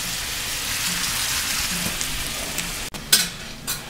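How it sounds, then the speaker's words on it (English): Steady broadband bubbling and hiss of water at a rolling boil in a pot, continuous and close, with a brief clatter near the end. "Alright, so my water is boiling."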